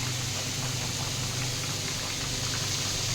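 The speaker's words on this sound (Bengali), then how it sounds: "এখন ফুটুক, পরে ফিরে আসবো।" Potato curry with a thin gravy boils steadily in a pot, giving a continuous soft bubbling hiss with no pauses and no voices.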